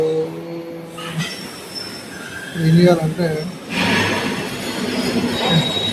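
A train at a railway station rumbles past with squealing wheels and metallic screeches, rising loudly midway, while a person speaks briefly over it.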